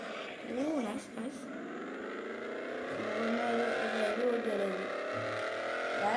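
Engine drone and tire noise from a Mustang drifting in the Roblox game Vehicle Legends, a sustained rising revving tone with a squealing sweep, while a voice talks over the gameplay.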